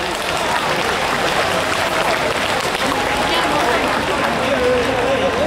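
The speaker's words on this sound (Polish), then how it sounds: "I wasze brawa teraz." Large audience in an outdoor amphitheatre at a town festival applauding continuously, a dense steady wash of clapping with crowd noise mixed in, loud and sustained from start to end.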